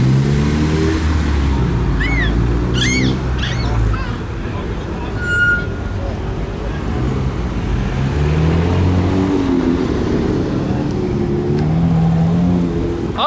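Modified cars pulling out of a car meet, engines idling and rumbling close by with a few revving swells, while people talk over the steady motor noise throughout.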